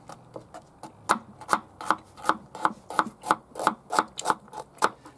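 Carrots are sliced with a Mora Eldris knife in about fourteen crisp, evenly spaced cuts. Each close, sharp crunch is followed by a short scrape, and the knife is heard alone.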